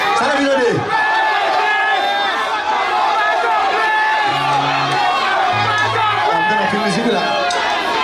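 A large concert crowd in Uman, Belgium roars and cheers continuously, loud and close, with whoops and shouting voices rising over the din.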